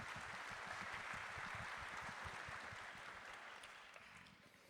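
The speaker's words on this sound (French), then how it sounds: "allez-y, applaudissez." Audience applause at a literature talk at the Utopiales festival, steady rapid clapping from a seated crowd, fairly distant and faint, tapering slightly toward the end.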